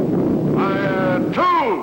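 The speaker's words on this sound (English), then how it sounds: "Missile units commence firing by twos. Fire one." Missile units firing in a 1954 science-fiction TV series, heard as a rising, wavering electronic whoosh that swells, breaks off and starts again, loud and close over a dense background rumble.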